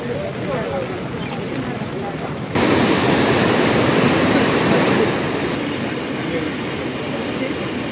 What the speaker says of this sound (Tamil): கோரையாறு கதவணையில் தண்ணீர் ஆர்ப்பரித்து